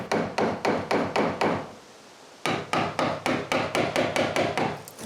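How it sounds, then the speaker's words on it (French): A mortise being cut into wood for a bolt latch on a new firewood shed: steady, rhythmic sharp knocks in two runs separated by a short quiet gap, close and crisp with no talking. "J'ai juste à marquer l'endroit ou faire la mortaise et je la coupe."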